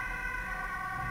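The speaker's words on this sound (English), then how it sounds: "I'm sorry about the ambulance" An ambulance siren sounds outside, a steady loud wail holding a sustained tone throughout with no talking.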